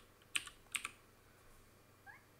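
Keys tapped on a computer keyboard, a quick keystroke followed by a closer pair, soft and close in a quiet room with no talk.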